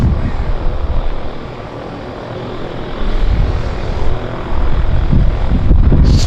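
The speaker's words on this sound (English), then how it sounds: "We've got another aircraft on approach. I guess it's a Otter." A de Havilland Otter floatplane on approach at Vancouver's downtown harbour airport drones with a steady propeller hum that swells gradually, growing louder toward the end amid light wind buffeting.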